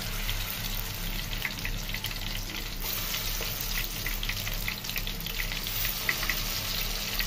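Shrimp fritters bubbling and sizzling in hot oil, a steady, close crackle that holds evenly throughout with no talking.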